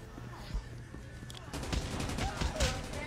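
Rapid bursts of gunfire in Call of Duty Mobile, several quick cracks and a denser volley in the second half, moderately loud under a voice talking.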